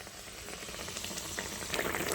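Water for a fish curry gravy with parshe fish, salt and turmeric, heating in a pan toward a boil: a steady soft bubbling hiss that grows slightly louder and busier near the end, with no talking.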